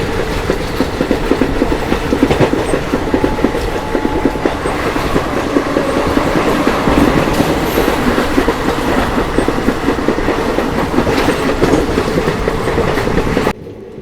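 Tirupati–Puri Express (17480) running on the rails between Rajahmundry and Anakapalli, with a steady loud rumble and rhythmic clickety-clack of the wheels throughout, ending abruptly.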